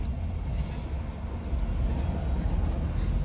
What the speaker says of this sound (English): it could be a ballast train